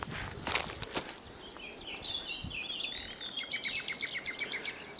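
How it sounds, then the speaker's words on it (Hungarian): Birds sing and chirp along a meadow pasture nature trail in Dejtár, Hungary, a series of faint, rapid high calls under footsteps and a few rustling knocks, fairly distant and quiet. "Viszont hallgassuk csak a madarakat."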